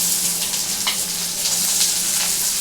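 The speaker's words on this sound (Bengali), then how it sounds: "এবার এর মধ্যে কাটা পেঁয়াজগুলো আমি দিয়ে দেবো।" Chopped onions hit hot oil with nigella seeds and sizzle in a steady, loud, hissing fry, with a brief stir partway through.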